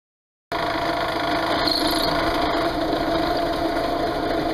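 A steady high-pitched motor whine of a power drill drilling continuously into sandstone, close by, with no talking.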